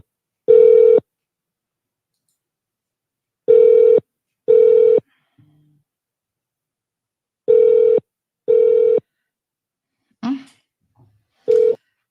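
A telephone number is dialed, producing a series of separate steady tones in an irregular rhythm, loud and clean against silence, with brief voice fragments near the end.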